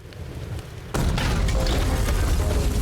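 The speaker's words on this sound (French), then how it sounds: "Explosion de méthane." A methane gas explosion test goes off as a sudden loud blast about a second in, after a quieter lead-in, then gives way to a sustained broadband roar that stays loud to the end.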